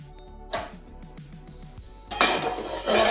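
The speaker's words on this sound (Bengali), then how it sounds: "ঢাকনাটা খুলে নিচ্ছি খুলে দেখছি" A pan lid lifted off during home cooking of a Bengali potol peel paste, with pots and utensils clinking and clattering nearby in a few sharp knocks, then a louder rush of sizzling steam as the lid comes away.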